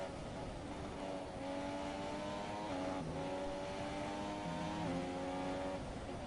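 An F1 race car in the F1 2017 video game, a McLaren battling through a Bahrain hairpin, its engine note climbing in repeated upshift-like steps and dropping under braking, loud and close with no talk.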